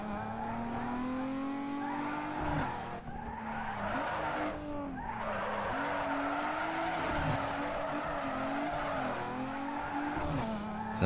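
A car drifts through corners in Need for Speed Underground 2, its engine droning steadily while tires squeal in long wavering screeches that rise and dip repeatedly, close and loud throughout.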